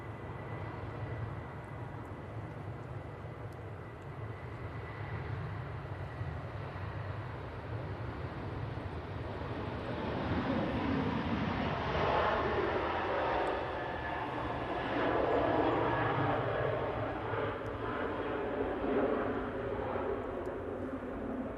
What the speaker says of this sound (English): Ryanair off to Cork, 737, 800.